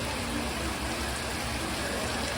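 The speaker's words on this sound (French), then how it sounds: "Et quand il pleut, il pleut." Steady, dense rain falling in the Colombian highlands between Piendamó and Totoró, a constant even hiss that fills the whole moment with no other sounds.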